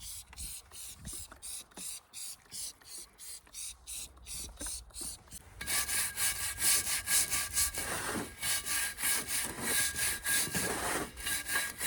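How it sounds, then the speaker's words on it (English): Sticky gunk is scrubbed off Kawasaki Z550GT motorcycle wheels with polished outer rims, in rhythmic back-and-forth strokes that grow louder and denser partway through, heard up close. "I want to get whatever this sticky gunk is off them first."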